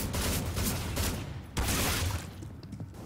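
Counter-Strike: Global Offensive (CSGO) gunfire comes as rapid dense bursts of shots, loud and continuous with a short break partway through, and no talk.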